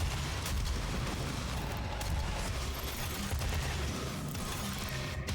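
Rocket launcher volleys in Doom (2016) rumble as a faint, distant barrage of booms and blasts that roll on steadily for several seconds.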